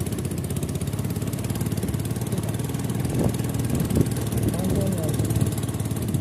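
A motorcycle engine labors steadily on an offroad uphill ride between Bodhe and Rajarani, a continuous mid-pitched drone running close and fairly loud throughout, with a few rising revs near the end and people talking over it.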